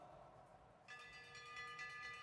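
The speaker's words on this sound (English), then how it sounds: "Here comes the bell." A bell rings for the sprint lap at a Madison track cycling race, a faint, steady metallic ringing that starts partway through over distant arena noise.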